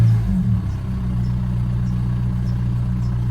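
A Volkswagen Jetta TDI diesel engine, check engine light on, runs steadily in a low idle hum with a brief swell of throttle at the start, then settles into an even, close rumble with no talk.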